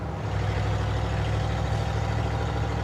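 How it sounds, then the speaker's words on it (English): A steady, loud low rumble of a Ford truck engine idling through its exhaust, with a motorhome-like tone, constant and close with no breaks. "It's got a good motorhome rumble to it over here on my side."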